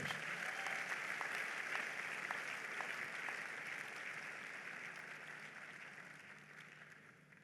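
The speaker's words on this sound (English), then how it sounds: "Help me give the Lord another big hand of applause." Applause from a large audience at a university convocation ceremony, broad steady clapping heard at a distance and fairly faint, slowly fading toward the end.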